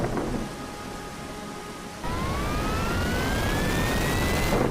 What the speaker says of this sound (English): the weather, which consisted of thunderstorms with heavy rain showers.